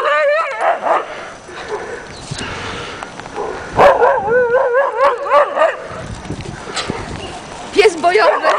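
An Afghan Hound out in March snow lets out barks, yips and whining cries over about eight seconds while a person keeps talking to it.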